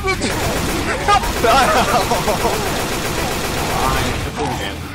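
Rapid gunfire from the video game Left 4 Dead 2, fired during a custom amusement-park map fight against a tank, crackles in dense overlapping bursts, loud and continuous, with voices talking over it.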